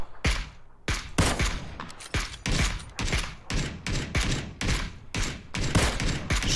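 Video game gunfire rings out as a rapid series of loud, sharp shots, a dozen or so cracks in quick uneven succession, each with a brief echoing tail.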